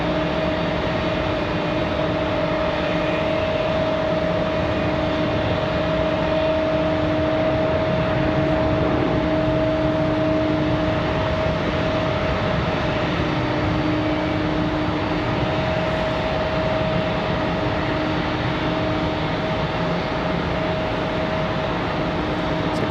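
A Delta Boeing 737-900 airliner at Raleigh-Durham airport, its jet engines producing a loud, steady roar with a sustained whine, continuous and unchanging for the whole stretch with no voices.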